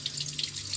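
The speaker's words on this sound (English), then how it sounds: "Look, the water is falling." Water runs steadily from a purifier faucet, a continuous close splashing stream heard alone for under a second.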